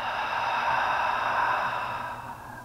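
Slow, soft breath exhaled through the mouth during a yoga session, a single steady airy whoosh lasting about two seconds that fades gently at the end.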